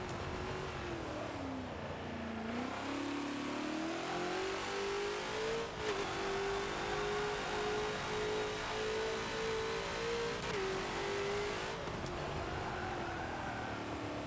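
A Ford GT40 racing at Sebring in Forza revs hard, its engine note climbing and dropping through downshifts to second gear, a steady loud mechanical drone with brief gaps between gear changes.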